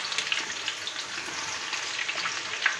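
Two tablespoons of onion fry in hot oil with garlic for a masoor daal tadka, giving a close, even sizzle with fine crackling pops throughout.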